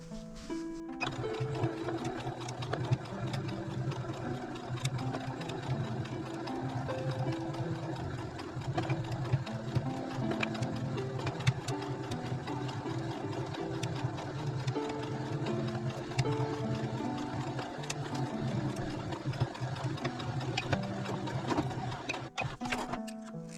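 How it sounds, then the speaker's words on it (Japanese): A sewing machine stitches a quilted pouch in a steady, continuous run. Its mechanical whirr and rhythmic needle ticking stay close and even the whole way through, with no voices over it. "ここまた縫っていきます。"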